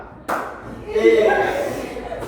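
A classroom of pupils claps together during a clapping game, one sharp group clap followed by lively voices and chatter.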